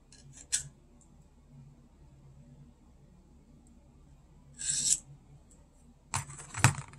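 A double cut file scraped across a knife edge to dull it, heard as three short, sharp metallic rasping strokes separated by long quiet gaps, the last two louder and closer together.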